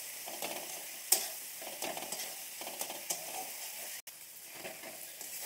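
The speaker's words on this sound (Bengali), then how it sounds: "জল দিয়ে ভালো করে একটু কষিয়ে নেব" Spice masala with kasuri methi and a little water sautéing in a pan for a taro flower curry, a soft steady sizzle with scraping stirs and occasional clicks of the spatula, close and fairly quiet.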